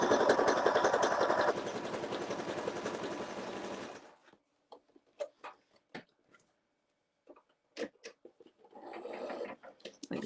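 A home sewing machine stitching through layered fabric pie-chart art, running steadily for about four seconds, then stopping, followed by scattered soft clicks and handling noises before a brief burst of stitching resumes.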